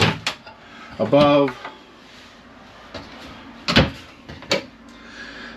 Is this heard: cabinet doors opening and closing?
yes